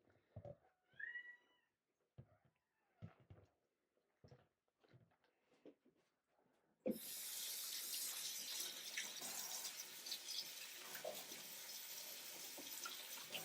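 Tap water gushes steadily into a sink while plastic fidget toys are washed, a loud continuous splashing rush that starts abruptly after a quieter stretch of scattered clicks and a couple of cat meows.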